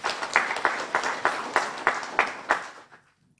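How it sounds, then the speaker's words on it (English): Audience applause at the official opening of the NUST Eenhana satellite campus, a rhythmic round of clapping in loose synchronized beats that fades out near the end. "And I think they deserve a round of applause."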